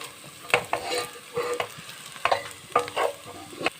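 Chili and coriander powder are stirred into green chilies and garlic frying in a pan. Several quick spoon scrapes come in short bursts over a faint sizzle, close and clear, with no voices.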